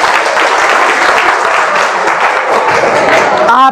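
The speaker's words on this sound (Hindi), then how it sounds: "सबको इनको स्वागत करो ताली बजा के" A school crowd claps for the class 10 topper at UHS Tetaria, a loud, dense burst of applause that runs steadily for several seconds before cutting off abruptly.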